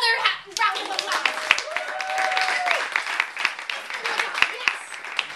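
A crowd in a bookstore claps at a clown literary show, with dense, steady clapping throughout. Voices and a child's speech mix in over it.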